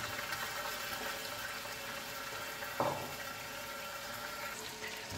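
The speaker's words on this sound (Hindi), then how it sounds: "अब मैं इसके अंदर पानी डालूंगी, और आप ढक्कन का ख्याल रखें वरना ये छींटे उड़ाएगा बहुत" Water poured into a cooking pot during the making of mutton yakhni pulao, a steady rushing fill running throughout with a brief splash partway, no talking.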